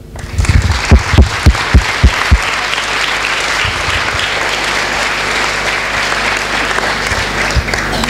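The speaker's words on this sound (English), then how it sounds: "I would ask everybody to welcome you with a warm applause" Warm audience applause fills a lecture hall at an architecture institute's opening lecture, starting with a few loud individual claps and building into sustained, dense clapping that continues steadily to the end.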